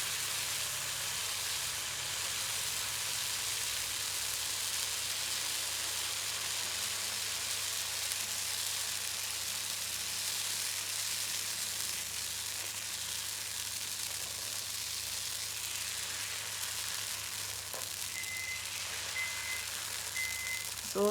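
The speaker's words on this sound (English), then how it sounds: "You hear that sizzle?" Continuous bright sizzling hiss from roti cooking on a hot pan, steady and close throughout, with a faint microwave beeping near the end.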